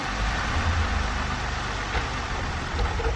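A 2012 Ford Taurus engine idling steadily up close, its low rumble holding fairly constant with only slight shifts in pitch as the PCM is squeezed during a throttle body fault check.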